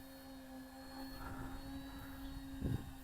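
Tunnel wing STOL aircraft flying slowly with flaps down: steady, fairly faint engine drone with a constant tonal hum and a brief louder buffet near the end, no talk.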